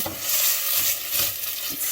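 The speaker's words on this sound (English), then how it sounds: "I'm just gonna let this Thai red chili paste kind of sizzle in this pan." Close, steady sizzling and crackling of Thai red chili paste in a hot pan, with soft scraping as the mixture is stirred.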